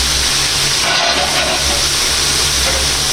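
Leafy greens hit a hot pan with a loud, continuous hiss of steam and sizzling that stays close and steady throughout.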